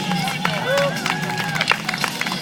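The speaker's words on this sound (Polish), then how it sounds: "Brawa dla nich." Spectators at the start of a marathon in Wrocław clap and cheer for runners setting off, scattered claps among crowd babble, with an announcer talking over the noise.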